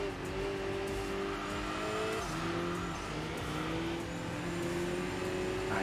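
Rally car engine droning steadily at high revs with tire noise in the Enthusia Professional Racing game, loud and continuous, pitch shifting as gears change, with no talk.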